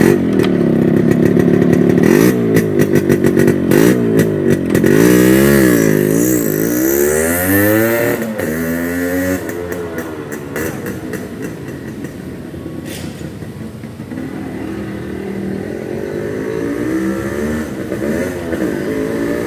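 A Yamaha RX100 motorcycle on a test drive, its two-stroke engine revving loud and close, climbing and falling in repeated pitch sweeps before settling into a steadier drone.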